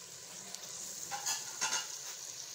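Garlic frying in ghee in a pan for masala fish curry gives a steady close sizzle, with a few soft scrapes and clicks from a spoon stirring it partway through.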